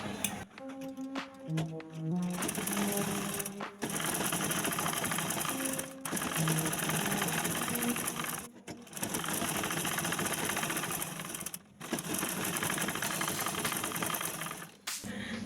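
A sewing machine stitches the side slit of a dress in bursts, rapid mechanical whirring interrupted by short pauses, with a few sharp clicks near the start; no talking over it.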